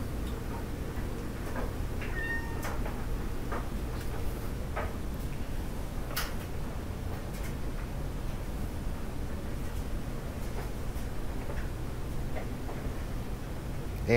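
A Frigid EA 203 box fan runs on its low speed, heard up close from behind the motor as a steady soft whir with faint irregular ticks and rattles throughout.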